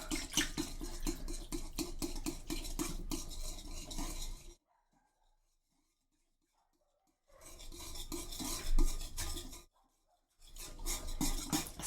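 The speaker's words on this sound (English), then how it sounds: "And now let's whisk that all up." Cupcake batter being whisked in a bowl, quick rhythmic scraping and tapping strokes in two bursts separated by pauses of near silence, close and fairly quiet, with no talking.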